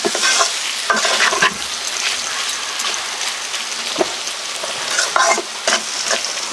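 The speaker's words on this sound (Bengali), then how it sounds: "এবার সবকিছু একসাথে মিশিয়ে কিছুক্ষণ এভাবে কষিয়ে নেব।" Fried prawns stirred with spices in a hot pan, a loud continuous sizzle broken by scraping stirs of the spatula, up close.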